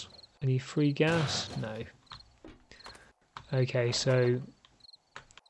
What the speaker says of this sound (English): So you can hear the crickets in the background.